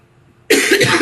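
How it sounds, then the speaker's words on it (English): A single sharp adult cough breaks out abruptly after near silence in an indoor training session, loud and close, trailing into a brief throaty rasp. "excuse me, I can tell I'm going to cough here"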